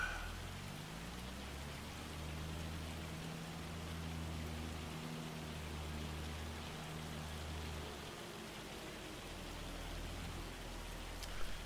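Hail pattering down in Farming Simulator 25, a continuous hissing rattle over a low engine drone that fades out partway through, with a faint knock near the end.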